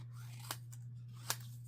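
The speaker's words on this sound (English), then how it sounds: "I'm going to go ahead and cut these apart" Scissors snip paper pieces apart in a quiet room, two distinct sharp cuts a little under a second apart over a faint steady hum.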